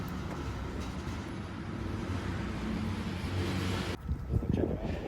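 A freight train rolls past at close range, a loud steady roar of wheels on rail with rumbling clatter, the sound shifting abruptly as cars pass near the end.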